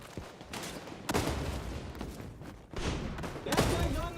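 Frag grenade thrown and exploding in the online shooter XDefiant, heavy booming blasts and gunfire bursts recurring through a busy battle mix, loud and close, with a voice talking faintly underneath.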